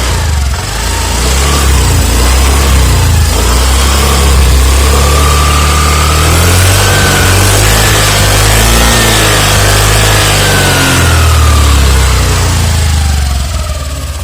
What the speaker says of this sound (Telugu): సో స్టార్ట్ చేస్తున్నాను. ఒకసారి సౌండ్ విందాం.